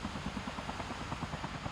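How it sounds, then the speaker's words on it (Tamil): A helicopter in a Call of Duty battle royale match, with a steady, rapid rotor chop that is fairly loud and continuous through the short moment, with no talk. "ஹெலிகாப்டர் வேற வருது."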